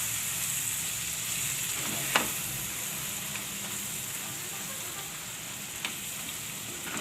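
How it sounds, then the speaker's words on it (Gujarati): Gram flour (besan) roasting in hot oil in a pan for a green onion lotiyu, giving a steady soft sizzle with a couple of faint stirring taps, no voices. "લોટને આપણે તેલમાં શેકાવા દેવાનો છે"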